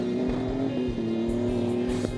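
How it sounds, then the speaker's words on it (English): A fast car, likely a paddock basher, drives hard with a loud, strained engine note that holds a steady pitch and then rises briefly near the end, close by and with no talk. "Listen to that car, that is fast."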